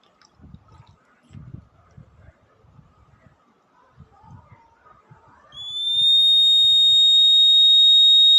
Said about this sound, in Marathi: बघा, अलार्म वाजत आहे. टाकी फुल भरली नंतरच अलार्म वाजत आहे.